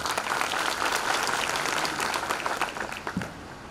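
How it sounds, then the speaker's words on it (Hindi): An audience at a speaking event breaks into dense, sustained applause from many hands, thinning slightly toward the end. "उनकी सभ्यता पर ताली बजा दीजिए"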